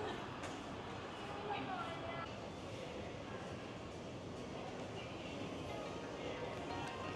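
A Bangkok metro train rumbles steadily, with faint squeals and clatter in an enclosed space and quiet voices in the background.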